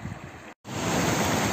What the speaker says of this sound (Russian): А вот и второй водопад.